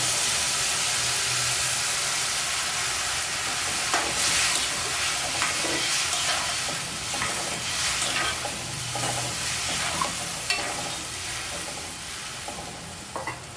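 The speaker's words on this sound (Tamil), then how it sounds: "இப்போ இந்த புளி தண்ணியை இதில் ஊற்றிடலாம்" Tamarind water simmers and sizzles in a curry pan with a continuous hiss, broken by occasional soft bubbling pops and stirring clicks, close by with no talking.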